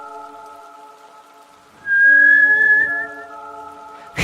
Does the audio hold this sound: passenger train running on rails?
no